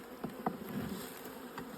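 Honey bees buzz around an open hive during an inspection, a close, continuous droning hum with a few louder passes as individual bees fly near, and no talking.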